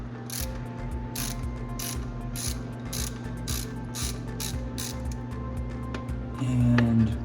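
A ratchet wrench loosens a thermostat housing bolt on a vehicle, giving a rapid, steady series of close, crisp pawl clicks in repeated strokes over a low mechanical hum.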